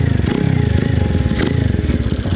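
Motorcycle engine idling smoothly after its carburetor needle was adjusted, a loud, close, steady rapid putter with a light mechanical rattle.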